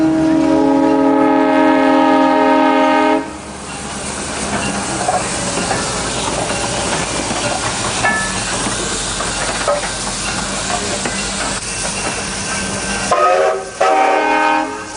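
Steam locomotive CPR Royal Hudson 2860 passes with classic coaches, a loud horn blast opening, then a steady rumbling roll of wheels and hiss, with another horn burst near the end.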